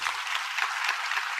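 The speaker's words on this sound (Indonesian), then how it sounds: "Berikan tepuk tangan untuk Tuhan" A church congregation applauds during a sermon, a dense, steady wash of many hands clapping at once, fairly distant and soft, with no distinct individual claps.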